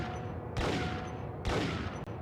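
Gunfire in the Max Payne video game: two heavy bursts of shots about a second apart, loud and close, each followed by a ringing tail over a steady background rumble, with no voices.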